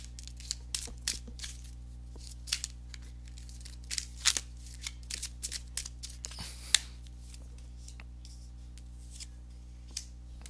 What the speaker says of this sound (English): let me go ahead and give these cards a shuffle